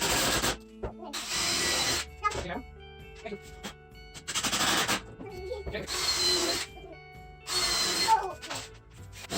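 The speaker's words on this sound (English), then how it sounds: "I need to drill a small hole to accept the Allen key." A power drill bores a small hole for an Allen key in a coupler set screw while a homemade CNC router Z axis is built, with four whining bursts separated by pauses and light handling noises, close and fairly loud.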